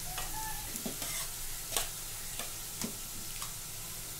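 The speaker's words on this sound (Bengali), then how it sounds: "এবার শাকটাকে ঢেলে দেব" Taro greens (dudh kochu shak) tipped into a pan of fried onion and garlic give a steady close sizzle, broken by a few light stirring clicks, with no talking.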